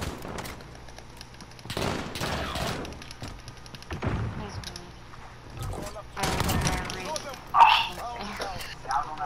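Burst-fire gunshots from a video game gunfight come in several sharp clusters of rapid shots, heard under and between excited talking.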